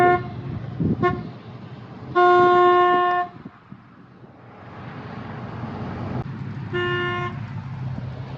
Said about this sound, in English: I don't know who he's honking at.